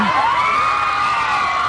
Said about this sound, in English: Little screams from the audience.